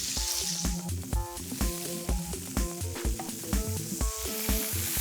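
Steady loud sizzling of fresh line fish searing in butter in a frying pan, with irregular clinks and scraping of utensils against the pan throughout.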